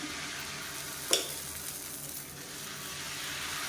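Pearl millet dosa batter sizzles on a hot pan with a steady, soft, even hiss, broken once by a short metallic clink.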